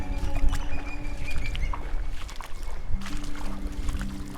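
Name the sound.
wind blowing on a mudflat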